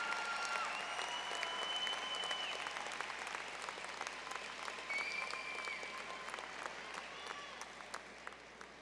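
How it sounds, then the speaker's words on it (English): Graduates at a Sunday afternoon ceremony applaud their families, a broad sustained wave of clapping from a large crowd in a hall, continuous and dense throughout with faint murmurs beneath. "You can give them a big round of applause"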